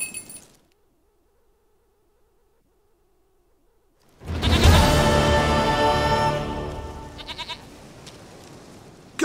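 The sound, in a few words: goat bleating in the video game The Witcher 3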